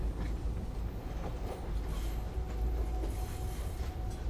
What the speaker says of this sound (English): I'm on a tram.